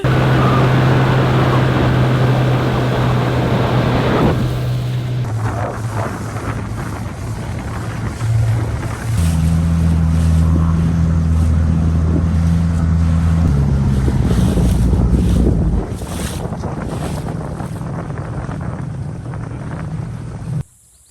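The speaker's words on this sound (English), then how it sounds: "We were just doing a dinghy ride" A small dinghy outboard drones across open ocean water, close and loud, its pitch shifting as the throttle changes, with wind buffeting the microphone and waves splashing against the hull.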